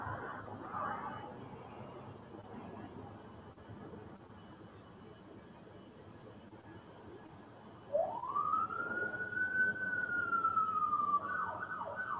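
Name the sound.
police car sirens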